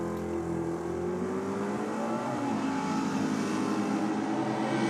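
A big V8 drag racing engine revs hard and steadily throughout, its loud, rough note rising slightly in pitch as it builds, with no talking.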